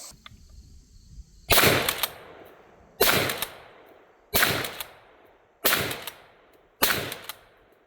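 A Retay GPS shotgun fires target rounds at a cardboard target outdoors, giving five loud, sharp blasts at a steady pace of about one every one and a half seconds, each trailing off in a brief echo.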